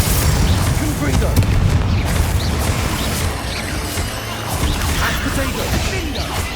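Confringo blasting spell explosions from the video game Hogwarts Legacy, dense booming blasts and crashes that keep coming throughout with whooshing spell effects, loud and close, a voice shouting over the din.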